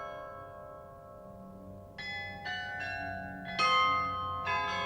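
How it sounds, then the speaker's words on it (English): Loreto carillon bells in Prague, a Baroque church glockenspiel of 27 bells cast in Amsterdam in 1694, ring on the hour: a held tone, then a series of bright chimed strikes building in loudness, heard clearly with no talking. "the 27 bells ring on the hour"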